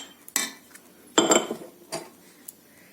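A spoon stirs coarsely pounded cashews, almonds and melon seeds together in a bowl for methi laddu, giving a few close, scattered clinks and scrapes against the bowl with quiet gaps between them.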